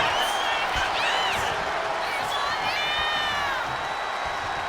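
A large arena crowd at a WCW wrestling event cheers and whoops steadily, a dense sustained roar with scattered shrill shouts and whistles rising above it.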